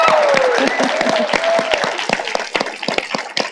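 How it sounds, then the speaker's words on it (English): Audience applause for a speaker at an annual Access Bars Day event, a short burst of claps with some crowd noise and a whistle-like tone early on, fairly loud. "Let's give him a round of applause."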